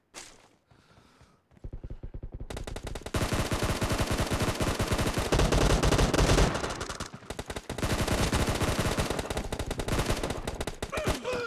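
Rapid AK-47 automatic gunfire in the mobile battle royale game PUBG Mobile, loud sustained bursts of rattling shots that kick in after a quiet start and continue nearly nonstop with a brief dip.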